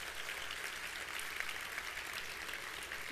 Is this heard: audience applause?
yes